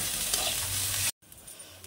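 Food frying red-brown in a pan in a home kitchen, salted, with a steady close sizzle and stirring, a brief silent gap, then quieter frying resumes.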